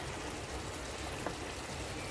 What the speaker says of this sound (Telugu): ఇదిగోండి ఎంత బాగా ఉడుకుతుందో చూసారా